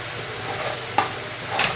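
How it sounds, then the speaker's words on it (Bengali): Tomato paste being stir-fried with spice masala for a prawn bhuna, a close steady sizzle broken by two sharp spatula scrapes against the pan. "টমেটোটা দিয়ে কিন্তু আবারও খুব ভালো করে কষতে হবে।"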